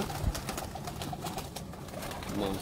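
Ali wale pigeons coo softly amid a busy, noisy background, with soft repeated calls near the mic.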